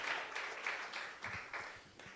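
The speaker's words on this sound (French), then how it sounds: "Et applaudissez pour le Seigneur." A church congregation claps for several seconds, with separate handclaps that are easy to pick out, fairly faint and set in a reverberant room.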